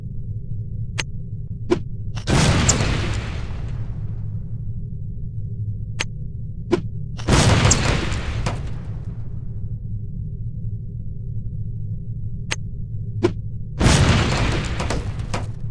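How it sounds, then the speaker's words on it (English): Lipstick-shaped explosive devices from the video game No One Lives Forever detonate on impact in three heavy booming blasts spaced several seconds apart, over a steady low hum with sparse ticking clicks between them. "These relatively inconspicuous-looking lipsticks are actually powerful explosive devices that detonate on impact."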